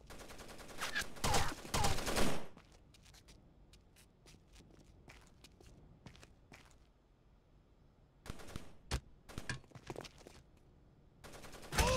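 Gunfire in the video game Rainbow Six Vegas 2 comes in short, sharp bursts and rapid volleys separated by quieter gaps. Faint shuffling and footsteps can be heard between the shots.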